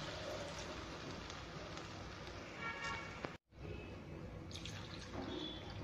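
Two glasses of water are poured into a pot of chicken and okra curry, a quiet, steady splashing rush that is close but faint, with no talking, briefly interrupted partway through.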